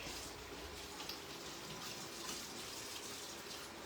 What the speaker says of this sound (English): I'm just going to rinse my fingers really quick